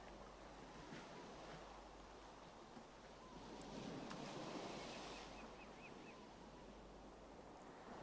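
Ocean waves in the video game Don't Starve Together: a faint, steady wash of surf that swells gently midway, with a soft wind-like hiss and no talk.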